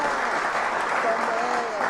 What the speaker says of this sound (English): Can we get some hand claps?